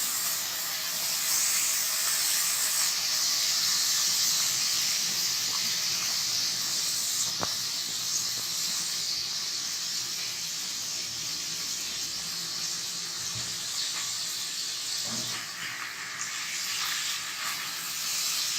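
Butter melts into ginger garlic paste frying in hot oil over a low flame for butter chicken, giving a continuous, steady sizzle and hiss close by with no talking.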